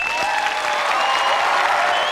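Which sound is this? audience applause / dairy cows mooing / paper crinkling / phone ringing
audience applause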